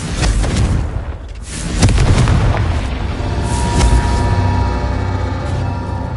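Confringo fire spell explosions in the video game Hogwarts Legacy make loud, heavy booms with a sharp blast near the two-second mark, then a sustained roaring rumble that stays strong to the end.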